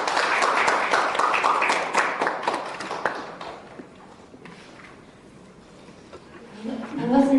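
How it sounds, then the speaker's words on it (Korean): At a student forum on half-price tuition, an audience applauds to welcome the first speaker. The moderate clapping lasts about three seconds, then thins to scattered claps and a quiet pause before a voice begins. "힘찬 박수로 시작하겠습니다"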